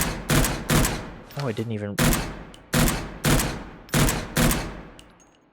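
Rifle fire in the shooter game Angels Fall First: about eight loud, sharp shots at an even, steady pace, with someone briefly talking between them.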